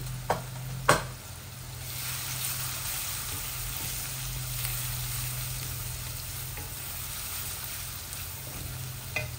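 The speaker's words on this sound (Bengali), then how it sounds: "এটা হোক আস্তে আস্তে, আস্তে আস্তে পেঁয়াজগুলা টেনে যাক, তারপরে আমি কারি পাউডার দেব।" Onions frying slowly in a pan with coriander and chili powder for a spinach dal, a steady low sizzle with a couple of sharp knocks near the start.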